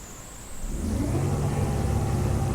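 BMW Z4 engine in a PC racing sim, a steady mid-pitched drone that swells from quiet in the first half-second into a loud, continuous rumbling hum with no voices over it.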